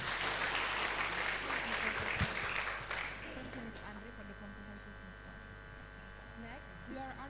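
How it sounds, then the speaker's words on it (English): An audience at a general lecture at the Canadian embassy applauds the Acting Governor of East Kalimantan, a few seconds of clapping that stops abruptly, leaving an electrical hum and quiet talk. "Please give him a round of applause"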